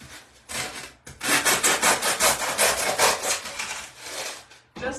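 Floral foam is cut into a small piece for a bird planter flower arrangement, giving a close, rhythmic rasping and sawing scrape of several quick strokes, with a brief pause before it.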